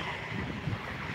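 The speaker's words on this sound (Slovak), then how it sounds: "Kurník, strašný vietor fúka." Strong wind buffets an outdoor microphone as a steady, dense rumble lasting about a second, with no voices over it.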